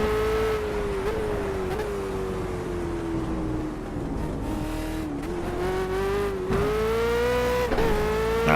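Ford Falcon V8 Supercar in Project CARS at Le Circuit Bugatti, its engine droning loudly and continuously with the pitch rising and falling as the throttle is feathered on and off, plus brief tire squeal.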